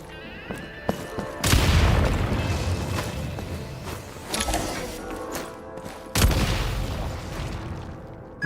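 Loud gunfire bursts from the game Genshin Impact, with sharp blasts near 1.5 and 6.2 seconds each trailing into a long roar, plus smaller clicks and a mid-clip burst around 4.5 seconds.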